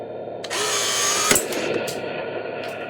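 A Heng Long 1/16 scale RC tank, a Toucan Hobby 2.4GHz Tk7.0 model, fires a BB pellet with a single sharp crack close by, over a steady whirring motor hum that keeps running before and after the shot.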